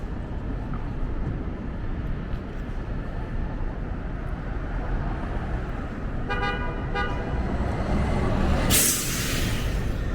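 City bus passing along a Manhattan street near the High Line: a continuous broad traffic roar with a short, sharp hiss of air brakes or a horn burst toward the end, amid general street noise.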